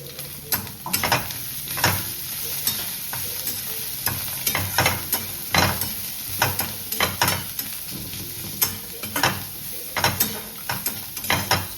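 Chicken curry masala with coriander stems and mint roasting in a pressure cooker pot, a steady close sizzle broken by repeated sharp scraping clicks of a spoon stirring against the metal.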